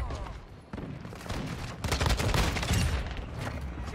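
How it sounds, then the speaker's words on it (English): Rapid bursts of gunfire in the video game Modern Warfare 2, sustained volleys that grow louder and denser midway, fairly close and continuous. "Was he shooting at me or shooting in the sky?"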